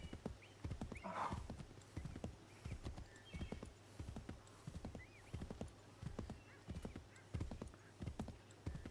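Horse hooves clip-clop in a steady, fairly close rhythm through Assassin's Creed 3 Remastered gameplay, with a brief whinny near the start and hoofbeats carrying on to the end.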